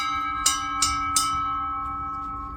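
A small bell on a high observation deck in South Korea is struck three times in quick succession, each bright clang ringing out and fading into a long sustained hum.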